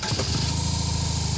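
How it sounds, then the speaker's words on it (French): A boxer twin motorcycle engine fires and settles into a steady, pulsing low rumble, close and fairly loud throughout the short stretch with no one talking. "le box twin qui donne vraiment un gros coup de côté quand on la démarre"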